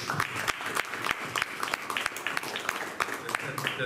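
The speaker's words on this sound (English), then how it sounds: "Let's have another round of applause." A small audience applauds at the close of a meetup talk on fashion and aerospace, with distinct individual claps in a brisk, uneven patter that lasts a few seconds.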